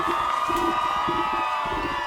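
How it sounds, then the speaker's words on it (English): A short burst of crowd cheering and whooping plays as a sound effect, several excited voices rising and falling together over a steady background tone. "Cue the cheering sound."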